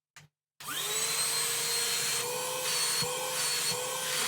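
An Auto XS cordless vacuum cleaner switching on after a short click, its motor spinning up into a steady high-pitched whine with a droning hum, some rubbing and knocking as it is moved.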